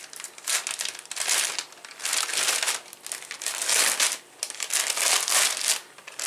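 Plastic packaging from an Avon order crinkles and rustles up close as it is handled and opened, in bursts of loud crackling with short lulls between them.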